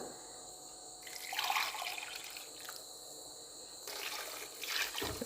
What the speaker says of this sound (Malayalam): ആവശ്യത്തിന് വെള്ളം കൂടി ചേർത്തിട്ട് ഇതിലേക്ക് ഒഴിച്ചു കൊടുക്കാം